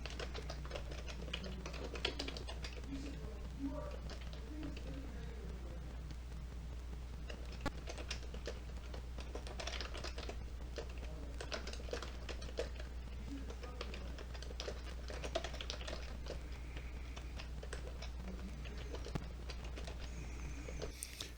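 Fingers tap a keyboard to type label text for a QR code, a quiet and uneven patter of small clicks over a steady low hum, with no voices for the whole stretch.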